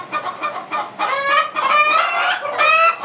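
Several chickens cluck close by in short repeated calls, with a few longer drawn-out squawks overlapping, no voices.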